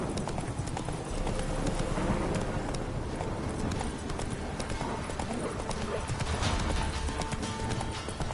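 Roach, a horse in The Witcher 3, gallops steadily with dense, rapid clip-clop hoofbeats that stay loud and continuous, mixed with game ambience and a brief voice.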